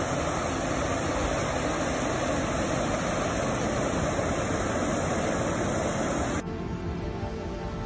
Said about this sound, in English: the overflow for the canal going into the River Tove